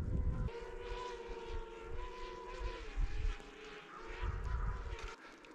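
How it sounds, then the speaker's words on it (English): A little micro drone flying indoors gives off a steady high whine with faint tonal bands, moderately loud and persistent, over low background rumble. "someone's flying a drone in here, which is very, very, very against the rules, even a little micro drone"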